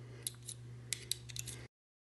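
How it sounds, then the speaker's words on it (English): A spanner wrench working the back element loose on a Minolta MC Rokkor-PF 58mm f1.4 lens, faint scattered metallic ticks and small scrapes over a low steady hum, ending abruptly in silence. "we're going to just use the spanning wrench to undo this whole back element"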